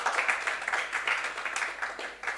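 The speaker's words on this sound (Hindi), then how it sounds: "एक बार जोरदार तालियां खुशी के लिए भी।" Applause rings out for a student during a lecture: steady, dense clapping from a group, moderately loud and continuous over a couple of seconds.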